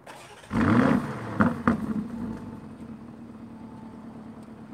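A 2020 Lamborghini Urus engine starts up with a sudden loud burst and a couple of sharp revs, then settles into a steady low idle.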